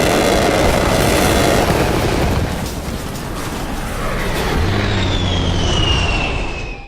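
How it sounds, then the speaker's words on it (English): A heavy, rumbling explosion in the video game Insurgency: Sandstorm roars loudly and rolls on for several seconds, with a thin whine drifting through as the blast dies away. "all the explosions are not Hollywood explosions. They feel realistic."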